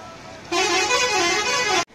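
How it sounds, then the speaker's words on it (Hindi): A bus horn sounds one long, loud, steady honk lasting over a second, standing out clearly against quiet background noise before cutting off abruptly. "बस पहुंची गल"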